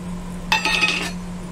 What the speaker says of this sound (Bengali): বাদাম ভাজবো